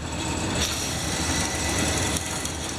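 A DoAll vertical bandsaw, model 2013-V, runs with a steady, continuous mechanical whir and hum, holding an even, fairly loud level with no voices heard.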